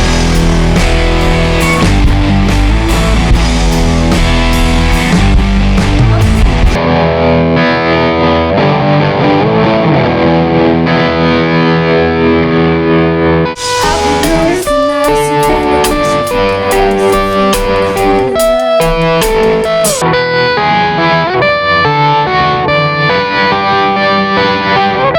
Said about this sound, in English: it is the Brothers AM full bore with some tremolo attached to it